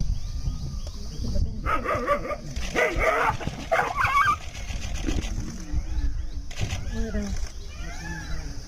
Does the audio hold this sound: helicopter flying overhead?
no